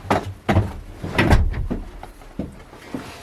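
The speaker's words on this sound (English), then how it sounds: "let me come in and close the door" An outhouse door closes with a series of wooden knocks, rattles and thumps, close and fairly loud. A heavier bump comes near the middle, followed by fainter clicks.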